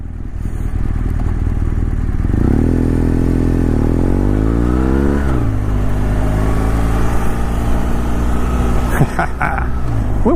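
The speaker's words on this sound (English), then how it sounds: "oh, is that a bike?" Motorcycle riding past, its engine rising in pitch as it approaches and then falling away, with rider's own engine and wind rumbling loudly throughout.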